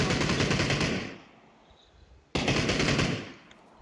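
Heavy automatic gunfire from a battle royale match, a sustained loud burst for about a second, a short lull, then another dense burst that fades out.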